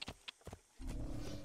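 A horse in an Assassin's Creed game gives a few sharp hoof clops and snorts, then a louder rumbling gallop or whinny-like burst takes over, close and moderately loud.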